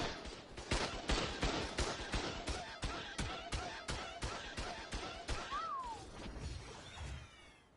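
Spider creature in ARK: Lost Colony firing at the player: a long run of sharp, evenly spaced impact bursts, about two per second, loud and close, with a brief whistling streak near the end.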